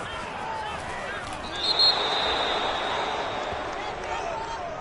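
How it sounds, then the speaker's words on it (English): Home crowd at a Buccaneers vs Browns NFL football game roars steadily after an interception call, a broad distant cheer that swells slightly midway, with a commentator's voice over it. "This home crowd, they're happy with that call."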